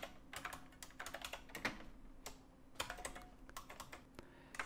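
Rapid, irregular clatter of fingers typing on a computer keyboard, including key shortcuts, close and quiet, with bursts of keystrokes and short pauses and no talking.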